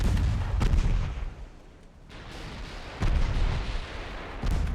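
Torpedoes blowing up in the naval strategy game Ultimate Admiral Dreadnoughts, a dense rumble of heavy booming blasts with sharp bursts at the start and again near the middle and end, loud and continuous with no talk.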